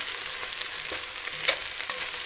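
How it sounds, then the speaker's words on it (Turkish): Diced eggplant and peppers sizzle and crackle in a hot pan, a steady frying hiss with occasional pops and stirring scrapes, no voices. "bu da kuşbaşı doğradığımız patlıcanımız ve biberimizi birlikte biraz kavuruyoruz"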